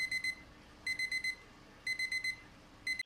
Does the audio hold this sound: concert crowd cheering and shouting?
no